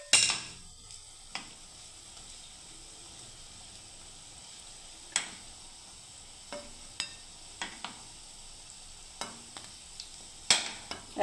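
Red lentil (masoor dal) fritters frying in oil make a faint, steady sizzle broken by sharp scattered clinks of a utensil against the pan, quiet and close, with no voices.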